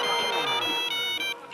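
A telephone ringtone plays a bright electronic melody for about a second and a half, near and clear, with no one speaking over it.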